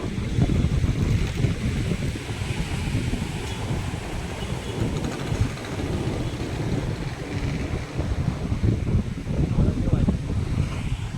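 Sea waves wash steadily onto Mangrol beach on the Gujarat coast, a continuous close surf roar mixed with wind buffeting, while someone talks over it.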